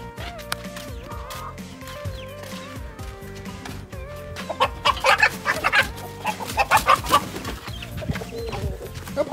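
Chickens, including roosters, cluck and squawk in a rural farmyard, with busy overlapping calls that grow louder and more agitated in the second half.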